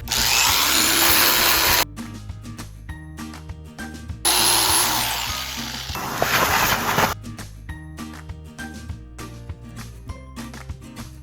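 A power sander grinds down glass fibre on an FRP bumper of a camper van, with two loud, steady stretches of abrasive whirring separated by a quieter pause in which the work continues.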